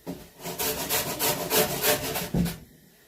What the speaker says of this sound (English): I got my little stout rougher here.